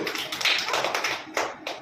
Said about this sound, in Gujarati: ચપટી તાળી ચપટી તાળી ચપટી